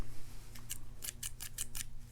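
Scissors snipping open the plastic packaging of a Matlock 2508 padlock, a quick series of about seven crisp cuts in close succession, near and fairly loud against a low steady hum.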